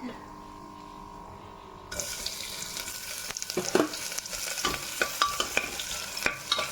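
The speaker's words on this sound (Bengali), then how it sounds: "পেঁয়াজটা একটু ভালো করে নেড়ে নিচ্ছি পেঁয়াজটা একটু ভাজা ভাজা হোক" Onions frying in hot oil with tempering spices as they are stirred in a pan, a sudden loud sizzle breaking out after a quiet start and then continuing with sharp scraping strokes.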